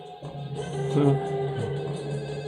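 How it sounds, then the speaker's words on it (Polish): Telephone ringing in the video game Max Payne, a few repeated electronic rings over quiet in-game ambience. "Dzwoni telefon."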